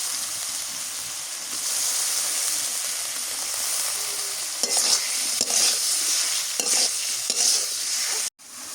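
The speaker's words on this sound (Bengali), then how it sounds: "মশলা কষানো হয়ে গেছে, আর মাছগুলো দিয়ে দিই, সাথে চিংড়ি মাছ আছে তো ভালো লাগবে।" Small river fish and shrimp fry in a cooked-down spice masala with garlic paste. A continuous close sizzle carries throughout, broken by bursts of stirring and scraping, and it ends with an abrupt cut.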